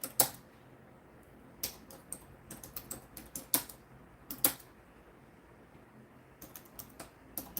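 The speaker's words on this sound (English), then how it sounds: "I'm typing all this stuff out." Computer keyboard typing in irregular bursts of crisp, close key clicks separated by short pauses, set against a quiet room.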